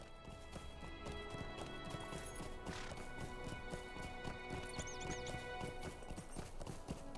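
In a fantasy video game, a horse gallops with quick, faint hoofbeats over background music, with a brief whinny partway through and occasional sharp knocks.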